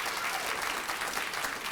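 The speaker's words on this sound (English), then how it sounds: "And that deserves a round of applause." Audience applause fills a club meeting hall for a state senator's monthly program, a steady, dense clatter of many hands held at even loudness throughout, with no voices standing out.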